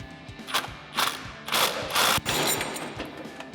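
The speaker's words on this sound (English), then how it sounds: "we're going to use a 16mm socket and pop this out" A ratchet with a 16mm socket loosens the steering stabilizer bolt on a Ford F-250 during a SuperLift dual stabilizer kit install. Four short, close clicking bursts of varying length are heard, with no talking.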